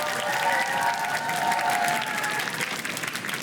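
A school quiz-show audience applauds both competing teams, with broad, continuous clapping and light crowd noise that holds steady throughout and eases slightly at the end.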